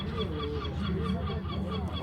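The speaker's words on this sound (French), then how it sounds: "C'est ça les mouettes." Seagulls call along the coastal GR37 trail in Brittany, a dense overlapping chorus of harsh, honking cries held steady and moderately loud throughout, with no talk.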